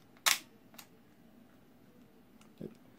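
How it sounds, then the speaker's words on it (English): The shutter of a Polaroid SX-70 folding instant camera fires as one sharp, close mechanical snap. A lighter click follows shortly after, and a faint mechanical clunk comes near the end in a quiet room. "When you push the shutter button,"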